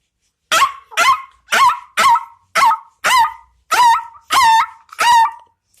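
A boy imitates a dog barking, giving nine quick, yappy barks in a steady rhythm, close and loud, with no other sound around them.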